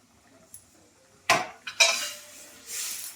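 Metal utensil clinks and scrapes against a cooking pot as milk is stirred gently, a few sharp knocks followed by softer swishing scrapes, close and fairly quiet with no voices.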